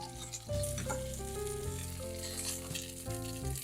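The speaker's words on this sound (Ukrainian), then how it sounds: "коли другий раз обсмажуємо м'ясо" Beef steak frying in a hot pan at home, a steady sizzle running the whole time beneath music with sustained tones.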